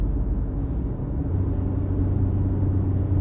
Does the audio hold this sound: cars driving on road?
yes